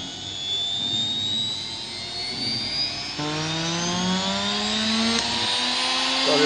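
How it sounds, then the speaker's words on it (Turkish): A high-pitched 16,000 rpm AC/DC reversible, speed-controlled electric motor whirs and speeds up, its whine rising steadily, with a fuller harmonic tone kicking in halfway through. "Motorun sesine dikkat edin."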